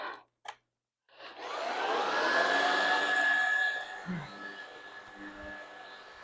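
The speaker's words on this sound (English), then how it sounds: "Don't come at me about my horrible vacuuming skills, because I know they're horrible" A vacuum cleaner runs while vacuuming a floor, starting up after a couple of short knocks and droning loudly with a steady high whine for several seconds before easing off.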